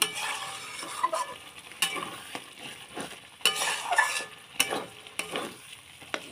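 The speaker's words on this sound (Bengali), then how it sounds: "এই যে মশলা আমার প্রায় হয়ে গেছে কষানো" Spices sizzle and scrape in a hot pan as a spatula stirs them, with repeated sharp clinks of metal against the pan over a steady frying hiss.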